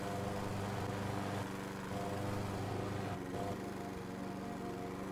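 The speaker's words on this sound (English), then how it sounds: "All the while mowing the lawn." A lawn mower engine drones steadily and continuously in the Lawnmower Game: Next Generation video game, a constant mid-level buzz with slight pitch shifts.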